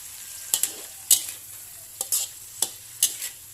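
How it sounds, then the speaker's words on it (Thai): Pork is stir-fried with soy sauce and sugar, the spatula giving several sharp scraping strokes in an uneven rhythm over a faint low sizzle from the pan, with no one speaking. "ผัดจนให้ทุกอย่างเข้ากันดี"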